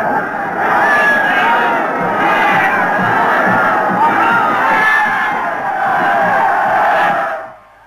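A huge outdoor crowd of over 100,000 people in Karachi roars and cheers continuously, a dense sustained mass of voices and shouts that holds steady before cutting off abruptly at the end.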